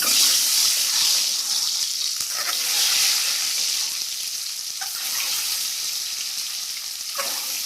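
Fried eggs are dropped one at a time into a pan of Bengali potato egg curry cooking in homemade spices. A steady, loud sizzle runs throughout, broken by a few soft plops and splashes as each egg goes in.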